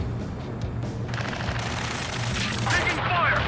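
Dense gunfire roars from the Ace Combat 7 mission without a break, with booming explosions and engine drone mixed in. It stays loud and layered from start to finish.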